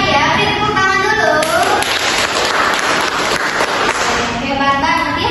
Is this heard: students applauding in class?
yes